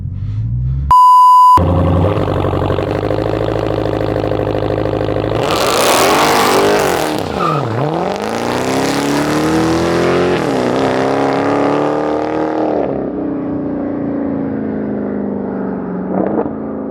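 A Dodge Hellcat Charger launches with wheelspin: the supercharged engine roars and revs hard, pitch climbing and dipping as the tires spin, loud and close, after a brief electronic beep.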